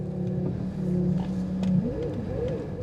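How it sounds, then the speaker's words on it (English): A French car's engine idling and revving steadily at close range, with a low continuous hum whose pitch shifts partway through, running on alone without any voices. "The engine sounds sweet though"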